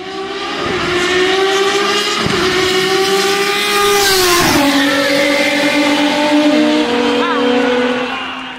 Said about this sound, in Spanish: un Ford Falcon ganándole a un Nissan GT-R.